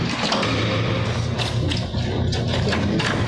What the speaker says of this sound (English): They're banging the doors on the holding cell.